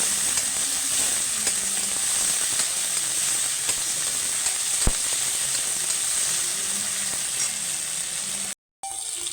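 Spices for a potato curry fry in a hot pan with a loud, continuous close sizzle, broken by an occasional utensil tap and a brief drop-out near the end.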